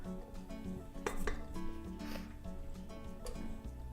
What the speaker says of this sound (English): I'm actually gonna just scrape my bowl really quick.